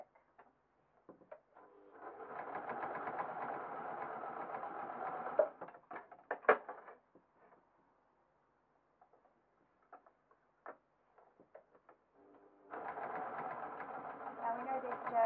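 Sewing machine stitching a patterned stretch jersey cotton dress runs in two steady bursts, a pause of scattered clicks and handling noises between them, close and moderately loud with no talking.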